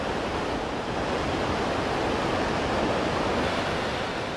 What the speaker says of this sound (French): Chaque minute, ce sont plusieurs centaines de millions de litres d'eau qui tombent dans l'abîme.